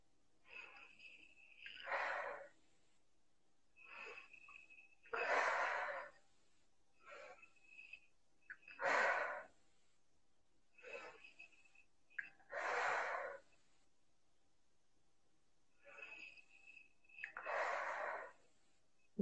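A deep breathing exercise during a psychologist's consultation: slow, heavy breaths close up, each a loud rushing burst, repeating at an even pace about every three to four seconds with quiet gaps between.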